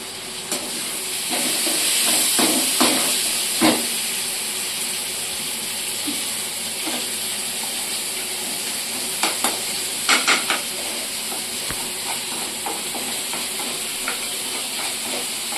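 Tomatoes and onions fry in hot oil with a loud, steady sizzle and hiss, broken by sharp scraping clicks of a spoon stirring the pan, close up and with no talk.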